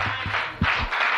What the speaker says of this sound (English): Yeah, that's a good place to clap, Brother Calderon.